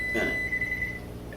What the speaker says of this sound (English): then you'll set the timer for a minute again